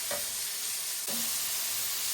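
Chopped garlic sautés in a hot pan, a continuous close sizzle with a couple of brief stirring scrapes breaking through the frying hiss.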